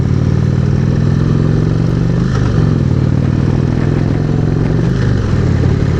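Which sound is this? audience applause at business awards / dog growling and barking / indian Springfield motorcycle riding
indian Springfield motorcycle riding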